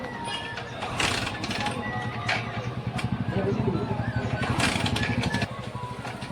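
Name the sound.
motorcycle being kick-started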